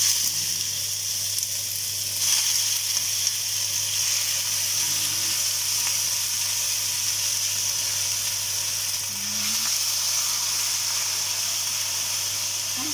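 Marinated pork fries in a pan with garlic, sending up a steady, close sizzle and hiss that holds throughout with small crackles and no talking.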